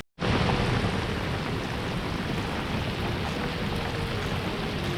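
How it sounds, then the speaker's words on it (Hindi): Heavy monsoon downpour lashes the Kali River near Karwar around a kayak, a dense, steady roar of rain hitting water that starts abruptly and holds loud and unbroken throughout. "झमाझम बारिश in the middle of Kali river."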